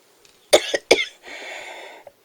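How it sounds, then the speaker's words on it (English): Two sharp coughs in quick succession, followed by a longer, raspy exhalation and a faint final catch, close and loud. "Sorry about the coughing episode."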